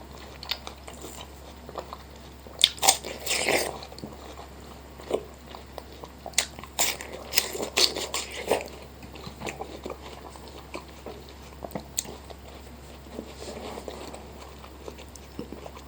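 Biting and chewing melon fruit close to the mic, with soft crunchy bites and wet chewing in irregular bursts over a quiet background and no talking.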